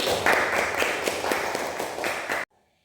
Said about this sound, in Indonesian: Betul sekali, tepuk tangan untuk Riswati.